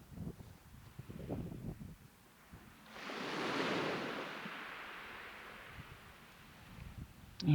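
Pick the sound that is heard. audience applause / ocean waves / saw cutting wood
ocean waves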